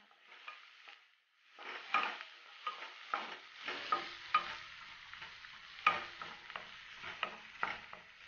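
Turmeric is stirred into a frying mixture in a pan for gongura pulao, with repeated close scraping stir strokes over a crackling sizzle after a brief quiet start.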